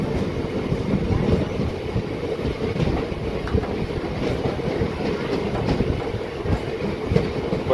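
A MEMU local train rolls into Nidamanuru railway station with a continuous, close rumble and clickety-clack of the carriages over the rails, and a faint wheel squeal now and then.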